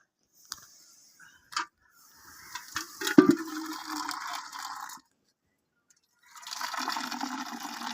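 Water pours and splashes steadily into a pot of saag for a couple of seconds after a few clicks and clinks, then a second softer pour follows after a brief pause.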